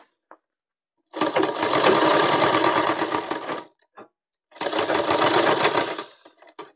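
Sewing machine running in two sustained bursts while stitching a belt onto a pair of trousers, with a brief pause and a few light mechanical clicks between the fast, loud whirring runs.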